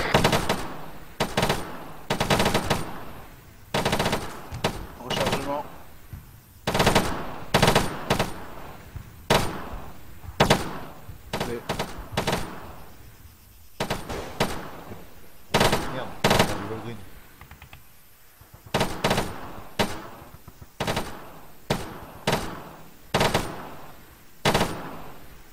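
Machine gun bursts in a military shooter game, repeated loud rattling volleys with short pauses between them, close and dominant, with radio-style voices talking faintly underneath.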